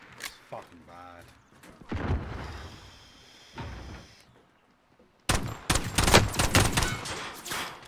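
Bursts of gunfire in the video game Call of Duty Warzone, a sharp crack early then dense rapid volleys near the end, loud and close, with a player's voice talking over the action.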